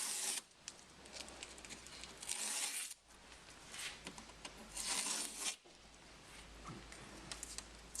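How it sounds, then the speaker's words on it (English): Adhesive tape peeled away in long ripping strips from a raised air intake snorkel being fitted to a Classic Land Rover Defender TD4 Puma, with two or three drawn-out tearing bursts separated by brief pauses. "Remove the tape."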